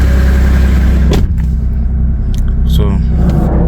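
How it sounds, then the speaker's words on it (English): A Lexus IS250 idling with a steady low engine rumble, a faint grinding from the steering running through it, plus a brief knock near the middle and short scraping sounds later on. "The steering was making one noise like that, like as if it's grinding."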